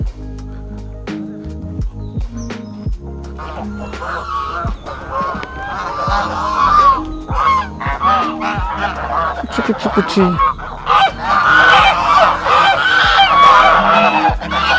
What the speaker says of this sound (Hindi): बत्तख हैं बहुत सारी